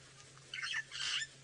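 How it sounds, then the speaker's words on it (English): Harsh, scratchy calls of a Burchell's starling ring out twice overhead, a short burst then a longer one, moderately loud against quiet bush on a safari drive. "Noisy birch starling above me somewhere."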